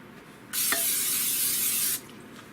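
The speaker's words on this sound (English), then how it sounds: "Give everything a good spray." Cooking spray hisses into a mixing bowl in one steady, close burst lasting about a second and a half, starting and stopping abruptly, with no talk.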